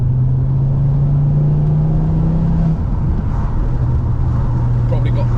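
Ford Mondeo 2.5 with a loud engine and exhaust, heard from inside while driving, a steady deep droning rumble with a low hum that shifts pitch partway through, mixed with road and wind noise.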